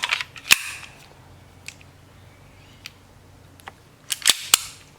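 A Double Bell M92 gas-powered BB pistol fires sharp, snappy cracks close by: one shot early, then a quick cluster of shots near the end, with small mechanical clicks between them.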